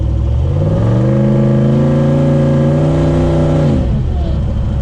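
A Ford 6.0 turbo diesel engine runs steadily with a loud, sustained whine like a vacuum cleaner over the low rumble, holding for about four seconds before dropping off.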